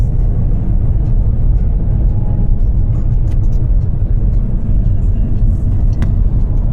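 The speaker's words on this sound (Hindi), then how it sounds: "सिर्फ गाड़ी ही गाड़ी दिखाई दे रहे हैं" Cars driving along a road near Melbourne, a loud, steady low rumble of passing traffic close by, continuous and without speech.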